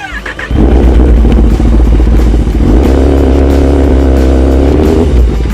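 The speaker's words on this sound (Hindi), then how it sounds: "दिल पे पत्थर रख के बाइक को नेल बेड के ऊपर से निकाल दिया।" A Kawasaki Ninja ZX10R superbike roars loudly and steadily as it is ridden off a bed of nails. The deep engine rumble holds constant for several seconds after a brief quieter start, with no talk.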